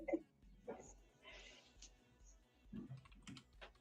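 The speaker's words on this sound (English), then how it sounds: "I'm typing in the chat" Quiet, close typing on a computer keyboard, with a few soft clicking keystrokes and a faint voice murmuring underneath.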